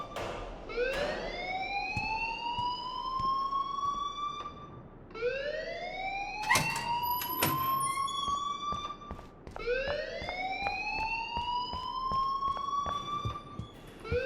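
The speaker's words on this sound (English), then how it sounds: "please turn off that alarm since that's your job" A wailing alarm in the video game Life Is Strange sounds in three long rising sweeps, each climbing and then holding. It is loud and steady, with sharp clicks between the cycles.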